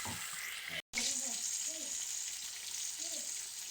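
Chunks of meat sizzle steadily in hot oil in a pan for a home-cooked sugar-meat dish, a continuous broadband hiss with a brief dropout near the start and soft thuds as the pieces shift.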